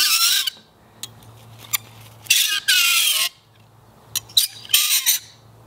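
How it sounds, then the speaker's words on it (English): Metal touching a block of dry ice gives off repeated piercing squeals and screeches, some short ticks and some longer wails, loud and close, coming in irregular bursts separated by near-quiet. "Every time you try to touch the dry ice with a metal object, it makes this high-pitched sound."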